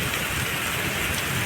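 Heavy rain pours down over open farm fields in a windstorm, a dense, unbroken roar of close, loud downpour with no pauses.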